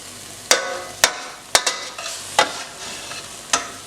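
Chicken chasni curry sauce being stirred in a pan over medium-low heat, a soft sizzle broken by about six sharp knocks of the spoon against the pan, close up.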